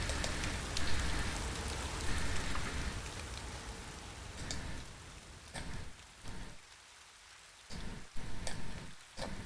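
Drizzle in Trainz Railroad Simulator 2019 falls as a continuous hiss of rain near a rail yard and canal, loud at first and thinning later, with scattered sharp ticks and patches of quiet.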